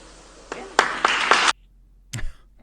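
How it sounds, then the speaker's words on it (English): Sparse, brief clapping from a small audience in a room, a short burst of a few hands that cuts off abruptly, followed by a lone thump. "that was an underwhelming applause, even from her acolytes in the room"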